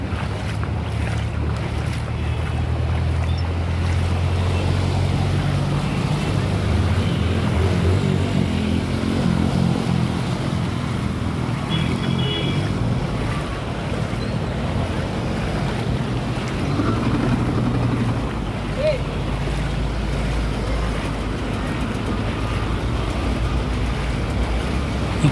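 Vehicles plough through a flooded road on the Devgad–Jamsande route in Konkan during torrential rain, a continuous low engine rumble blended with broad watery hiss and spray, steady and moderately loud for the whole stretch, with no talking.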